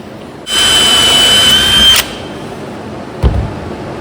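A power drill bores a hole in a trailer, whining loudly for about a second and a half before stopping, followed by a single clunk shortly after.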